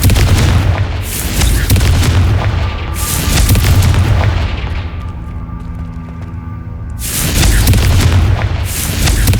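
Confringo blasting-spell explosions in the Hogwarts Legacy video game, heavy booming bursts that come in repeated waves with a ringing tonal tail between them, loud and close.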